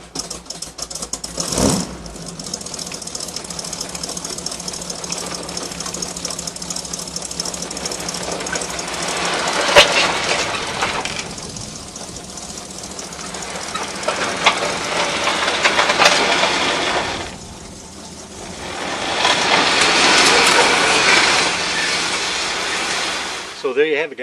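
A skid loader engine chugs and rumbles steadily nearby as the machine drives out from under a load, dragging ramps along with it, its loudness swelling and dipping over a long continuous stretch.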